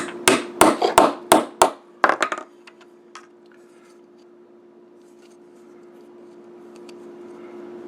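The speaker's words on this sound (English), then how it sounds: "you can tap them together with a hammer" A hammer taps metal gears together on an arbor during a single-motor robot build: about eight sharp, close strikes in quick succession, then a steady low electrical hum with a few faint clicks.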